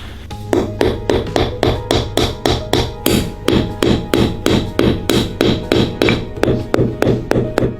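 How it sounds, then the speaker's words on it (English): A frozen fruit used as a hammer in the extreme cold of Yakutia strikes repeatedly, giving a long series of loud, sharp, evenly spaced knocks, roughly three per second, each with a short hard ring, with no voices. "People here can even use frozen fruits as hammers when they need to."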